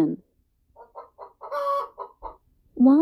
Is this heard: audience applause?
no